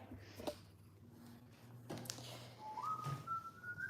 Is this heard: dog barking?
no